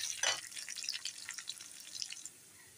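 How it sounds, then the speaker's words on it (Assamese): Onion frying in a pan for an arum leaf, arum root and potato dish: a soft, close hissing sizzle with light crackles, fading out near the end, with no talk. "এতিয়া পিঁয়াজটো দি দিছোঁ। তেতিয়া পিঁয়াজটো ৰঙা হ'বলৈ লাগিব অলপমান।"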